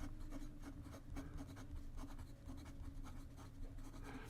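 Kaweco Perkeo fountain pen with a medium nib scratching across Rhodia paper in steady, close strokes, with a soft rhythmic scritch of writing throughout.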